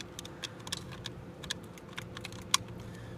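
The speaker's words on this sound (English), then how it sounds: "You can hear it clicking." A faulty power window master switch in a Honda Accord clicks repeatedly, with quick light plastic clicks in an irregular series at close range and one sharper click near the end.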